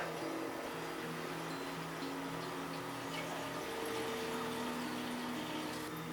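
Water from a hose or tap pours steadily into a bucket, a continuous hissing, gurgling flow with a faint low pump-like hum underneath, close and fairly quiet throughout.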